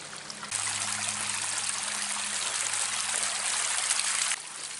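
A small waterfall pours steadily out of a culvert after a dam and berm were dug out, a continuous close rushing trickle of water that runs alone for about four seconds, with a low engine hum underneath.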